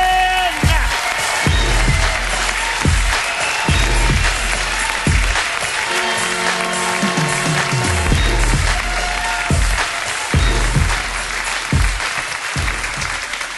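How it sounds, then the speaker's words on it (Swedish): A comedy club audience applauds a comedian coming on stage, loud and sustained clapping throughout with music playing underneath. "ger nu en jättevarm applåd till min favorit"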